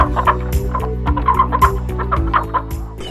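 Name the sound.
guinea fowl calling on a farm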